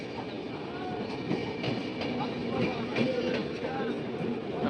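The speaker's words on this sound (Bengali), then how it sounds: "ওই যে আমাদের গাড়ি আসছে, আসুক, চলে আসছে আমাদের ট্রেন" An Indian express train pulls into a crowded station platform, a continuous rumbling roar with faint clatter, heard from the platform under steady crowd noise and chatter.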